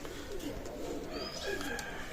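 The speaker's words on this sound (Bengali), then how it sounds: "অসাধারণ বেবি টেডি কবুতর দেখাচ্ছি" Imported Pakistani teddy pigeons, including babies, give low soft coos close by in a quiet loft, with faint background noise.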